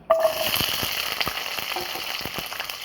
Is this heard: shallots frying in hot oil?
yes